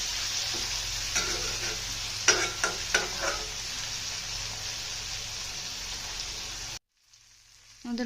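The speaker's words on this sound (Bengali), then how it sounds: "মাছগুলো অর্ধেক ভাজা হয়ে গেছে। এখন মাছগুলোকে উল্টে নিব।" Pangas fish pieces sizzle in hot oil with a dense, steady crackle and a few sharp pops and spatters, close and alone, before the sound cuts off near the end.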